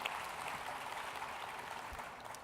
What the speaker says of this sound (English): If I could have a round of applause for our panelists, please.